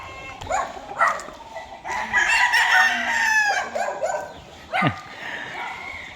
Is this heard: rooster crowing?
yes